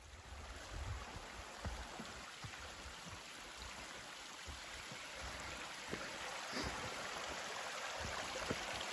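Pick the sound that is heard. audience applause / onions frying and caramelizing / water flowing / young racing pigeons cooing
water flowing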